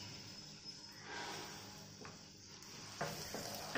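Potatoes frying in oil in a pan for a capsicum potato masala curry give a steady, soft sizzle with a few brief stirring scrapes, close and fairly quiet, with no talking.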